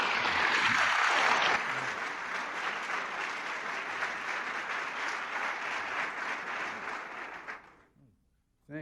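Sustained audience applause for President Reagan, dense and steady clapping from a large crowd that carries on for several seconds, then tapers away and stops near the end.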